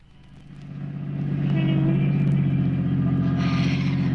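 A car engine idling and then revving up into a steady, loud low rumble for a radio drama sound effect, the hum holding after it builds over the first second and a half.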